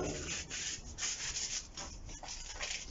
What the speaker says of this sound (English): we'll just sand some of it off